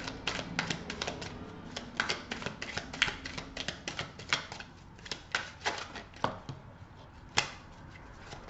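Tarot cards shuffled by hand up close, a steady run of crisp papery clicks and riffles, with brief louder snaps along the way and no voices.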